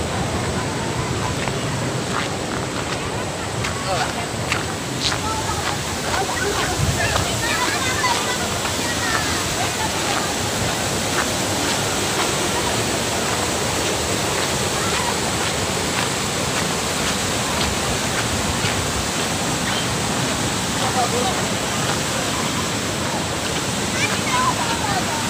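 Pari Falls, a waterfall in Doña Remedios Trinidad, Bulacan, roars as a continuous, loud, dense rush of falling water close by, with a voice faintly heard over the steady wash.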